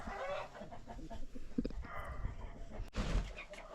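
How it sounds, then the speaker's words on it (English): Chickens kept indoors in a Serbian village cluck in short, scattered calls at close range, mixed with shuffling and rustling noise. "They have them chickens inside like that."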